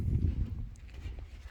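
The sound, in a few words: horses walking into the pen, hooves clip-clopping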